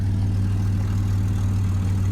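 A Dodge Dakota pickup truck's engine idles steadily just after starting, a close, low, even rumble with no speech over it.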